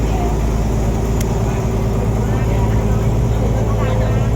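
A motorboat's engine drones steadily nearby on the Tha Chin River in Nakhon Pathom, Thailand, with a low, continuous hum and rumble, with no pauses in the sound.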